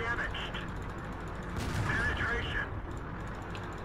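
Cannon fire from an AMX 13 90 light tank in a tank battle video game, a dense blast-like burst over steady mechanical engine rumble, with a sharper crack around the middle and talk mixed in.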